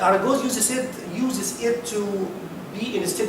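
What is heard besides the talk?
No everyday noise stands out behind the speech.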